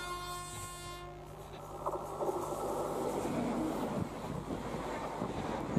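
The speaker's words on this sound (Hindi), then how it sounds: "बिल्कुल इस तरह ये आया कोई वैप, शताब्दी को लाता हुआ लग रहा है।" An Indian Railways electric locomotive hauling a Shatabdi express in Bengal sounds a long steady horn, then the train rumbles past with rolling wheel noise and wind buffeting, moderately loud and continuous.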